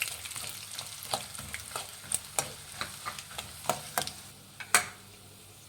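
Byadgi chillies and curry leaves frying on low flame in a pan for temple-style puliyogare. Steady soft sizzle with sharp scattered crackles and pops, close by, with no voices.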